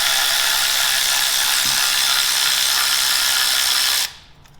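A ratchet fitted with a 10 mm socket spins off a starter bolt on a Chevrolet Silverado 4.3 V6, one steady rapid clicking run lasting about four seconds that stops abruptly and leaves quiet.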